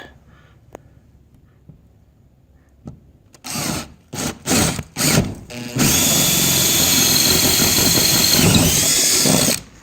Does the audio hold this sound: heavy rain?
no